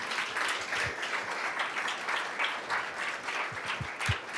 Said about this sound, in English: we should all give him a good round of applause